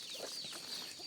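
Chickens cluck softly and continuously at a close distance on a rural Thai farm, with no talking over them.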